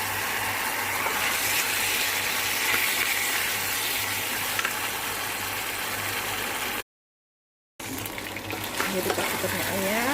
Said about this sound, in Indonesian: Kita masukkan stoknya ini.